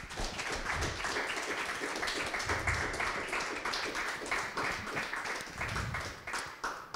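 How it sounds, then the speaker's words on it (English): Audience applause for a panel of speakers at a Royal Society of Canada and Massey College event on water sustainability, steady dense clapping from a seated crowd at moderate distance. "I hope everybody will share in some applause."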